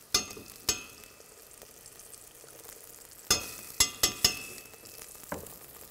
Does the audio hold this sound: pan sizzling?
yes